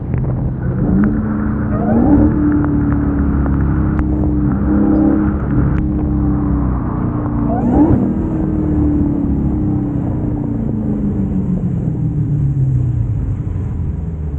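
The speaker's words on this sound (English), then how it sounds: "I hope y'all can hear the supercharger better." A Dodge Challenger Hellcat Redeye with a supercharged engine is driven in the rain, giving a loud, deep, steady rumble heard from inside, with a few rises and falls in revs.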